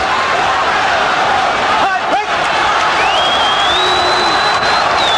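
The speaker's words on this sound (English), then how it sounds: "The crowd now beginning to chant Macho, Macho." Boxing crowd at Madison Square Garden during Camacho vs Rosario, a loud, continuous roar of voices with rising rhythmic chanting and whistles, dense and enveloping throughout.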